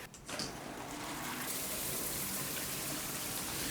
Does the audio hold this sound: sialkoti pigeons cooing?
no